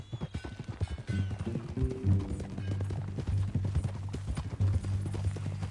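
Horse hooves clip-clopping in Red Dead Redemption 2, a steady rhythmic trot of close, crisp hoofbeats continuing throughout, with a low engine-like hum and faint talk beneath.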